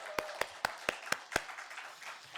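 Six crisp, evenly spaced claps ring out in a church during a Sunday worship service, moderately faint against a quiet hall with a soft background hum.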